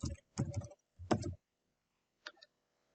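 Short bursts of keystrokes on a computer keyboard while text is typed into a slide, three quick clusters of clicking close up, then a pause and one faint final tap.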